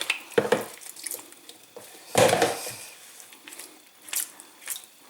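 Squeegee dunked into water in a kitchen sink: a couple of splashing, sloshing bursts with drips between, close and moderately loud, no talk.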